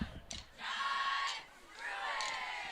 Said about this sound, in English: You can hear the loud cheer team cheering on their team.